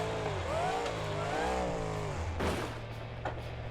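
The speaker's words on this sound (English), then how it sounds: "Now, onto the monster truck." A monster truck engine in BeamNG revs hard and close, its pitch swinging up and down in repeated surges, followed by a couple of sharp bangs or clunks.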